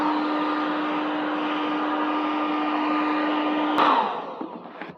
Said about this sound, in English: the blow dryer will be hot,